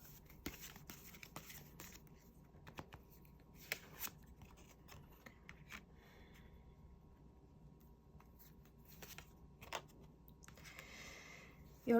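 Tarot cards being shuffled and handled softly at close range, scattered light riffles and taps over a quiet room.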